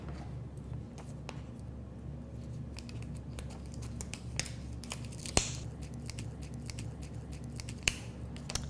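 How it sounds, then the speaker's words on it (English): Scissors snip a piece of ostomy barrier strip up close, a quiet series of irregular crisp cuts and clicks over faint background noise. "I'm actually going to cut a little piece off here."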